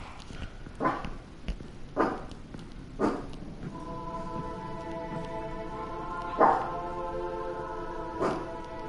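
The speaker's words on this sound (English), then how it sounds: "Stop barking at nothing." A dog barks in a sparse series of sharp single yaps, moderately close, spaced a second or so apart over quiet background hum, with a brief tonal squeak midway.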